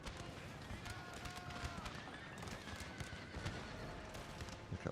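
Cavalry horses gallop in a Napoleon: Total War battle, a dense, faint wash of hooves and clatter mixed with distant battle noise and a voice talking over it.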